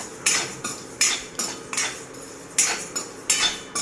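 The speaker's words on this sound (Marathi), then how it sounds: "त्याच्यामध्ये असे चार पाच लसणाच्या पाकळ्या घालायच्या" Garlic cloves clinking into matki dal being dry-roasted and stirred in a metal pan, with a series of sharp utensil scrapes and clatters at irregular intervals, close and moderately loud, no voices.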